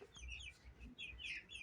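Chickens in a small coop give soft, faint clucks and chirps in short, irregular bursts, heard quietly without talk.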